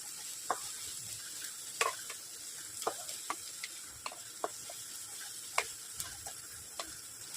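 Onion and green chillies sautéing in a pan, a soft steady sizzle with scattered sharp clicks and taps from stirring, close but fairly quiet, no voices.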